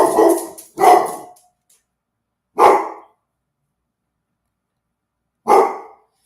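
A dog barks loud and close, first a quick pair of barks, then two single barks spaced a couple of seconds apart with silence between.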